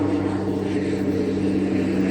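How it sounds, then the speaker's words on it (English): A plane flies low right overhead on an outdoor walk, a steady loud droning rumble that fills the whole moment with no voices over it. "Can't out-talk a plane."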